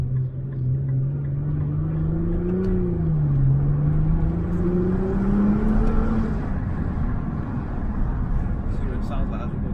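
A Nissan GT-R R35 engine drones steadily from inside while driving, its pitch rising and dipping slightly over a constant rumble of road noise.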